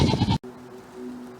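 A goat on a small hobby farm in Preston, Connecticut lets out one loud, close, wavering bleat that stops abruptly, followed by quiet farmyard background.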